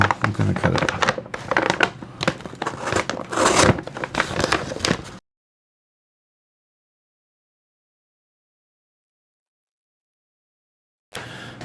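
Knife packaging for a Remette reverse tanto D2 pocket knife being cut open: about five seconds of close, busy scraping and rasping cuts, then a long silence before a brief final rustle.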